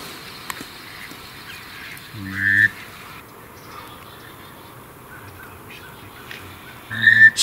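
Ducks circling overhead above a small creek quack in two short bursts from the distance over a quiet outdoor background, with faint whistling calls between them.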